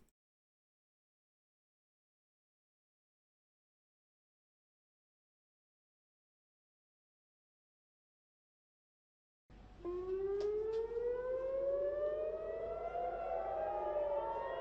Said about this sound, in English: Ooh, the sirens.